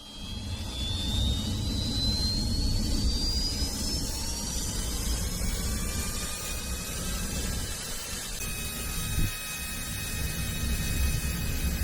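An L-39 Albatross jet engine spools up, its rising whine sweeping higher over a loud roaring rush, then settling into a steady high-pitched drone.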